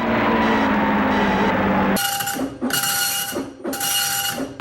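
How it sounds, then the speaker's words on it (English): Video game car brakes that sound like a dot matrix printer: three rapid mechanical buzzing bursts after a steady engine drone, close and loud with no talking. "why do my brakes sound like a dot matrix printer?"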